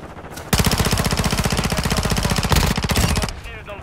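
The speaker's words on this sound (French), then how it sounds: "J'essuie les tirs" Sustained automatic gunfire in Call of Duty Modern Warfare 2, a loud, fast, even stream of shots lasting nearly three seconds before cutting off, with a brief second burst overlapping near the end.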